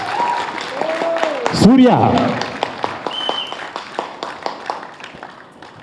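Audience applause at a theatre drama performance, a burst of clapping that thins into scattered claps while a voice speaks over it.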